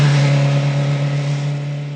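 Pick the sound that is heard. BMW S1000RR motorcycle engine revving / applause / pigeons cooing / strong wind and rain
BMW S1000RR motorcycle engine revving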